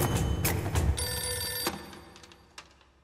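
A telephone bell rings in loud repeated trills near the start, then stops, leaving a fading tone and a faint knock in a quiet indoor scene from a Hindi-dubbed film.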